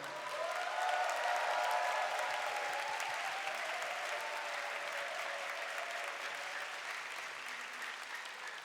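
An audience at a Japan–Korea youth gathering claps steadily and warmly, a dense even wash of applause that holds for several seconds and slowly tapers.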